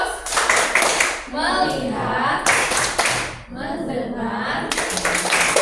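A school class performs the 'tepuk fokus' clap chant, with three bursts of brisk group hand-clapping alternating with children and a teacher chanting words aloud in unison.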